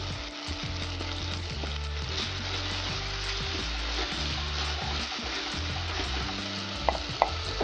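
Spices sautéing and sizzling in a pan for a Kerala-style karimeen fish curry with kudampuli and coconut milk, a steady close frying hiss with occasional stirring and faint clinks, no talking.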